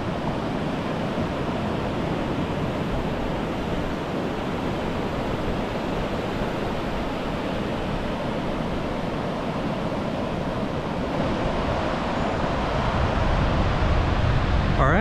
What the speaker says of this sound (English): we are at La Push in Washington. This is Second Beach.